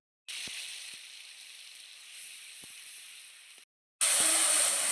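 Onion paste, two medium onions' worth, frying in hot oil in a kadai for a potato curry, giving a steady broadband sizzle with a few faint clicks, a brief pause, then a louder, brighter burst of sizzling.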